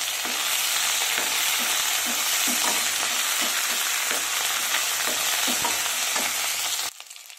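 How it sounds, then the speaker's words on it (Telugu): Curry leaves and green chillies fry hard in hot oil for gongura pulihora, giving a loud, dense sizzle with faint stirring taps. The sizzle cuts off abruptly near the end. "ఇప్పుడు కరివేపాకు, పచ్చిమిర్చి మొత్తం అన్నీ వేసేస్తున్నాము. ఇవన్నీ బాగా ఫ్రై అవ్వాలి."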